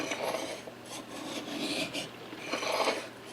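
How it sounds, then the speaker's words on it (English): A hand file rasps along the rail of a 1911 Commander .45 ACP pistol frame held on a filing jig, three close, rhythmic scraping strokes with brief pauses between them. "I'm trying to keep the frame flat on the jig as I'm pushing it into the file"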